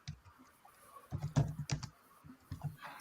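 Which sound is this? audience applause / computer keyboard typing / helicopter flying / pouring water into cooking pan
computer keyboard typing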